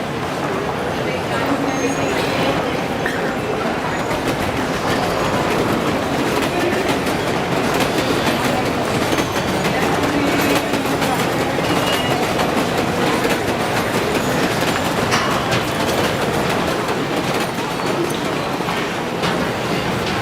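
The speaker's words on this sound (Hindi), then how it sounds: "सुपरफास्ट एक्सप्रेस भोपाल से चेन्नई को जाने वाली प्लेटफॉर्म नंबर 1 पर खड़ी है" An express train bound from Bhopal to Chennai stands at platform number 1 of a busy railway station, a steady loud wash of rumbling train noise and station hubbub running throughout, with voices mixed in.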